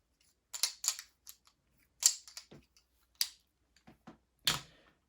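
Game tiles for the board game Too Many Bones being shuffled on a table, a run of sharp, close clicks and clacks in irregular bursts with short pauses between them, no talking.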